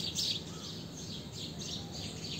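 A flock of sparrows twitters in a mango tree close by at a safari park, bright repeated chirps rising and falling throughout over an even outdoor background.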